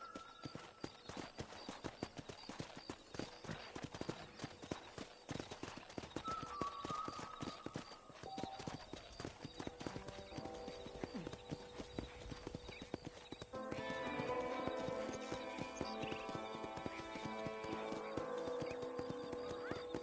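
Steady clip-clop of horse hooves walking at an even pace in the video game Red Dead Redemption, with game background tones and a brief whinny, no talking.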